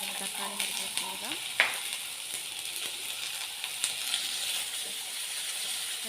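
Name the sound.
tomato and green chili stirred and frying in a pan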